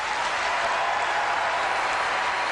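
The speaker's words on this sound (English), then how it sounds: "First one, clap, please." Audience at Macworld San Francisco 1999 clapping for the first option: a dense, steady wash of applause from a large crowd throughout, loud and continuous with no talking.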